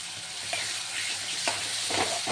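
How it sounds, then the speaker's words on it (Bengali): Ginger-garlic paste fries in hot oil in a pan for a snakehead fish curry, a steady close sizzle with occasional scraping stirs cutting through. "লাল লাল করে ভেজে নেব।"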